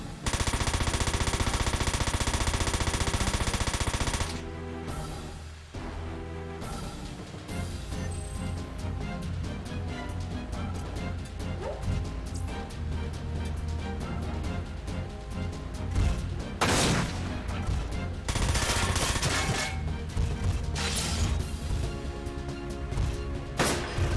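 Mech gunfire barrage in the video game Front Mission 4, loud, dense bursts of rapid automatic fire with heavy booms and impacts, a sustained opening volley followed by repeated overlapping salvos.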